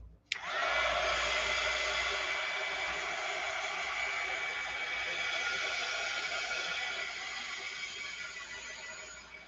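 A hair dryer switches on with a click and blows a steady, loud whooshing whine for several seconds while drying a wet toy, with no talking over it.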